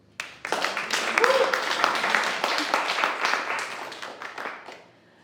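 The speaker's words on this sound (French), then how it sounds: "On peut applaudir." An audience claps at the opening of a literary reading evening, applause swelling quickly, holding steady and then thinning out, with a voice briefly audible over it.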